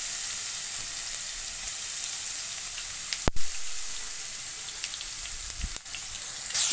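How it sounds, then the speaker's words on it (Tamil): Garlic sautés in oil with popped mustard seeds, a continuous close sizzle broken by a couple of sharp clinks and stirring scrapes, with no talking. "வதக்கிக்கிறேன்"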